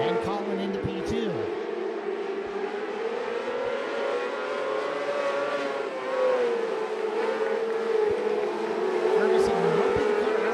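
600 mini sprint cars race around a dirt track, their engines forming a loud, continuous, close roar that rises and falls slightly as they run through the corners and down the straightaway.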